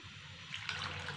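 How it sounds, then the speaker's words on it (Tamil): Coconut milk poured into a pan for a sweet aval halwa, a steady close liquid stream splashing and trickling for about a second, with no talking. "1½ கப்பு தேங்காய் பால் வந்து ஊற்றிருக்கேன்"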